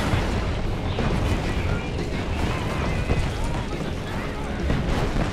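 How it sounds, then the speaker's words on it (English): Artillery fire in the video game Marvel's Avengers, a dense, continuous rumble of booms and blasts under a busy battle mix with speech. "Their artillery's targeting you."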